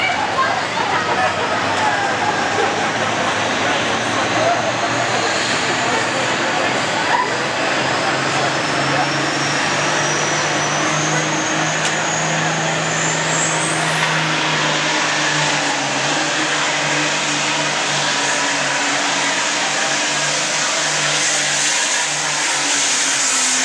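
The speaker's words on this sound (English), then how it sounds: "Tractor" An altered farmstock tractor pulls at an indoor winter tractor pull in a long, loud, continuous engine roar that rises in pitch toward a high whine, with an announcer talking over it and crowd noise behind.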